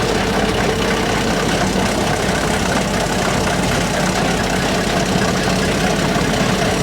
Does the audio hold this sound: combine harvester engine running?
yes